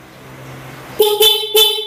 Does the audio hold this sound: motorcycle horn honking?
yes